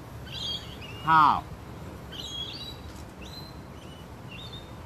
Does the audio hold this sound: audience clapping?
no